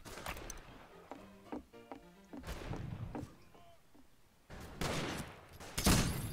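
Bursts of gunfire in the online shooter Fistful of Frags: scattered shots and a short rapid volley, then louder blasts near the end, with a brief thud among them and no talk.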